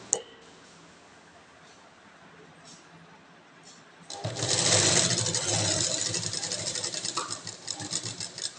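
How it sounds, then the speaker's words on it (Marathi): A sewing machine stitches a velvet blouse, starting loud partway through and running in a fast, steady mechanical whir with a rapid needle rhythm, after a quieter stretch of handling. "ह्याच्यावरती एक दाब शिलाई मारून घ्यायची"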